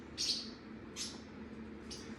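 A pet budgerigar gives three short, high chirps spaced about a second apart, faint and thin over a quiet indoor background hum.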